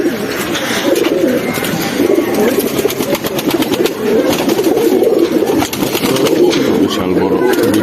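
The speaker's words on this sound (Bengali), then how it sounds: "বিগ সাইজের একটি ব্রিডার নর কবুতর।" A large male breeder pigeon coos in a steady, continuous low murmur, with other pigeons around it in a loft. The sound is close and fairly loud throughout.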